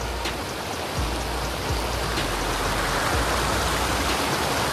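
Cold running water splashes steadily while hands and feet are washed outdoors in a Pauri Garhwal village, Uttarakhand, a dense continuous rush close to the microphone with a few soft thuds and no voices.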